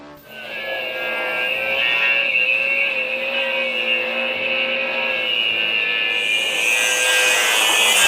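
A grinder's cutting disc screams steadily against a metal wheel rim, a continuous high whine that holds for several seconds, close and loud with no talking.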